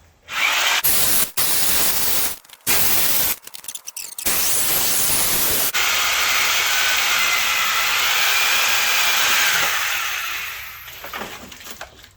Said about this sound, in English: Sawzall is back up and running, so time to get killing